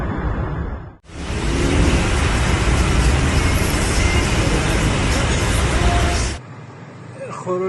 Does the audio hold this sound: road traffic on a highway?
yes